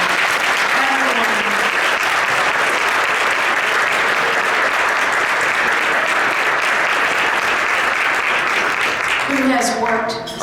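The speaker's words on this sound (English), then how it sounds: "giving a huge round of applause to everyone" A school audience applauds after a junior speech, a loud, dense, continuous clapping that holds steady for about ten seconds before a voice starts talking near the end.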